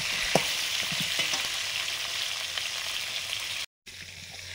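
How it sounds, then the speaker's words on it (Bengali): Pointed gourd slices rubbed with salt and turmeric sizzle loudly and steadily in hot oil for Durga Puja cooking, with occasional stirring clicks and a momentary gap near the end. "পটল চিংড়ির জন্য পটলগুলো ভাজছি"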